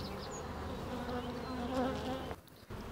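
Dense, steady buzzing of many honeybees inside a hive, close by, a warm humming drone that cuts out briefly near the end.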